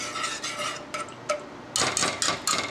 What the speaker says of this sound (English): Use the whisk just a little bit to stir it up.